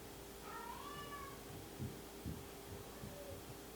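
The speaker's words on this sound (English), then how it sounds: "That's our cat." A house cat meows a few times indoors, short rising and falling calls near the start over a low steady room hum, then faint soft thumps follow with no talking.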